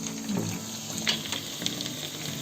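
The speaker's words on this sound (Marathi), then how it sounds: "तेल तापत ठेवलेलं आहे मी, आणि त्याच्यामध्ये आपण चिरलेले लसूण आपण त्याच्यात टाकणार आहोत." Chopped garlic drops into hot oil in a home kitchen where shrimp pickle is being cooked, giving a steady close sizzle and frying crackle with a few light stirring knocks, no voices.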